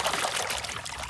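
A toy cement mixer truck is dropped into water, giving a brief continuous splashing and pouring wash of water, close and fairly loud, with no talking.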